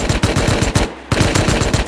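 Automatic gunfire in the video game Rust rattles in fast, loud bursts of close shots, with a brief gap of under a quarter second before the firing resumes.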